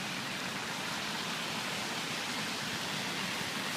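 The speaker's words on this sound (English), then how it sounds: "It's raining, so I got a umbrella up." Rain falls steadily on an umbrella at Thomas Square on a street walk, a dense continuous patter close overhead with no pauses.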